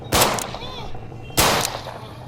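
Pistol in Audio Defence: Zombie Arena, two sharp loud shots about a second apart, each ringing out briefly against low background game sound.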